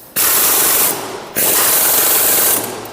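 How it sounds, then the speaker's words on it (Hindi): An impact machine with a 17 mm socket drives a bolt on a TVS Apache RTR 200 4V engine during a rebuild, giving two loud, sustained bursts of rattling hammering separated by a short pause. "इसमें हम जो इम्पैक्ट मशीन को यूज़ कर रहे हैं और इसमें 17 नंबर का गुट का यूज़"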